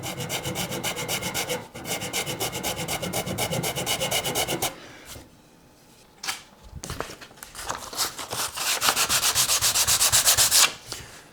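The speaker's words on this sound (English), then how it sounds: "I'm going to need to sand the top of that flat" Sanding the top of a pallet wood guitar flat, a steady abrasive rubbing that runs loud and close, breaks off briefly near the middle, then resumes with rhythmic back-and-forth strokes.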